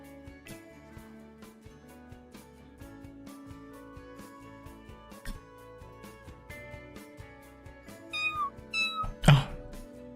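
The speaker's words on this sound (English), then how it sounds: "Okay, you just have cats." Cats in The Sims 4 meow several times near the end, short rising calls over steady game music, with no talk.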